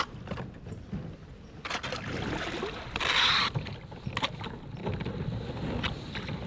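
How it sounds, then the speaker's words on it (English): Kayak paddling onto thin winter ice at a Missouri conservation area, a steady rough scraping and crunching wash with a brighter cracking burst midway, close-up with wind buffeting the microphone and no talk. "Let's go paddle on the ice,"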